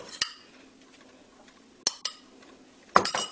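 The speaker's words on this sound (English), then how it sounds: "Just going to spoon on some of that lovely dry rub." Dry rub spooned onto pork ribs, heard as a few sharp metallic spoon clinks against a dish, one early, a pair near the middle and a cluster at the end, with quiet gaps between.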